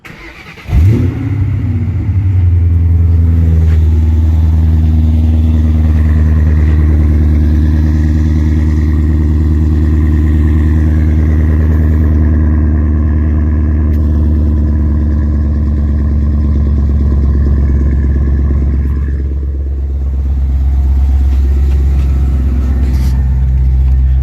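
Ford Mustang with Bassani mufflers and no resonators starting up with a sharp bark, then a loud, deep exhaust drone held steady at close range, rising and settling slightly near the end.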